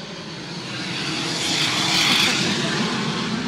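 A propeller airplane flies low overhead, its broad engine drone swelling as it nears, peaking loudly around the midpoint, then easing slightly while staying close and steady, with no talk.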